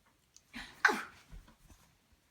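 A dog gives a single short, breathy sneeze at close range, followed by quiet snuffling and faint movement noises in an otherwise hushed room.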